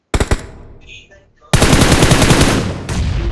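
Rapid automatic gunfire in the mobile battle-royale game Free Fire: a short opening burst, a brief lull with faint game sounds, then a loud sustained stream of shots lasting about two seconds, close and dominant.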